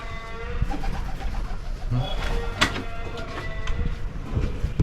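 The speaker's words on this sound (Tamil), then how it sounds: "இங்கே வந்தால் சூர்யா வீட்டுக்கு வந்தால் இங்கே வந்து புறா பார்ப்பேன்." Pigeons coo near a house rooftop in Tamil Nadu, soft repeated coos under a busy, noisy outdoor backdrop with mixed clatter and background chatter.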